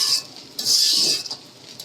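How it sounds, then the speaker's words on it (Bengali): Noodles with coriander leaves are stirred in a large pan, giving a close, steady scraping and clinking of utensil against metal for a couple of seconds, with a soft sizzle underneath and no talk. "দিয়ে এখন নাড়াচাড়া দিচ্ছি"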